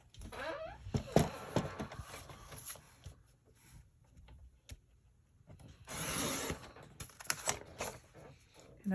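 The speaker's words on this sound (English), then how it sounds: "and now I can bring my trimmer back." A paper trimmer slices scrap paper in a few separate strokes, with quick close rasping cuts and soft clicks and handling noises between them, moderately loud in an otherwise quiet room.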